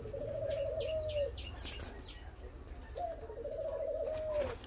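A pet turtle dove coos twice, each a rolling, bubbling phrase repeated after a pause, clear and fairly close over a quiet background.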